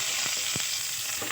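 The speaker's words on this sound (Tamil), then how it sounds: "நல்லா வெங்காயம் வதக்கி விட்டுக்கலாம்." Onion and green chilli sautéing in hot oil in a kadai, a steady close sizzling hiss broken by a few soft stirring scrapes, with no talk.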